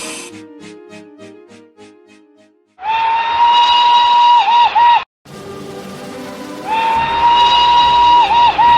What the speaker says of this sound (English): Thomas heard an engine whistling.